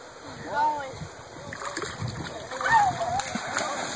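Intermittent splashing as someone moves through river water, with voices talking over it and a high whistle-like tone sounding briefly.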